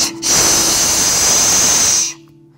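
A human voice imitates a whitetail deer snort wheeze with one loud, forceful, airy exhaled hiss lasting about two seconds, close to the listener, then cutting off into quiet.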